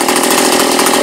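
A red Stihl 027 chainsaw with a port-matched manifold runs on its first start after the mod. Its two-stroke engine idles loudly and steadily up close throughout.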